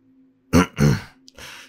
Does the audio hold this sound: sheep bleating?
no